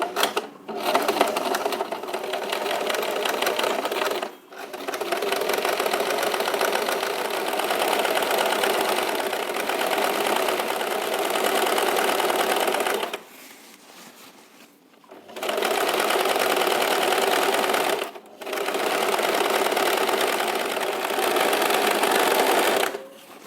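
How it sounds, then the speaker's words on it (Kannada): Electric sewing machine stitching a fall onto the edge of a saree, a steady rapid mechanical whirr running in long bursts with brief pauses between them, close and loud. "ಒಂದು ಸೈಡು ಮಿಷನ್ ಸ್ಟಿಚ್ ಹಾಕಿದ್ದಾಯಿತು"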